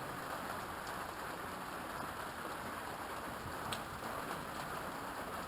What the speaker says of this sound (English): played a little bit while the rain fell around me